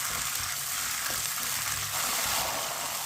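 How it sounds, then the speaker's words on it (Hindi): Peas frying in a pan over a medium flame, a steady close sizzle with faint scraping as a spoon stirs them, continuous for a few seconds. "मटर को 2 मिनट के लिए फ्राई कर लेंगे।"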